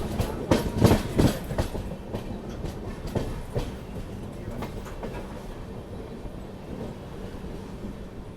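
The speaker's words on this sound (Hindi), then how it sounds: "ज़बरदस्त डीजल लोकोमोटिव का साउंड सबसे पहले मैं आपको" Duronto Express passenger train hauled by a diesel locomotive, heard from aboard: rhythmic clickety-clack of wheels over rail joints loud at first, then a steady rumbling roll that gradually eases.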